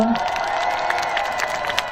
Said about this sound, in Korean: 박수 한 번만 주시겠어요?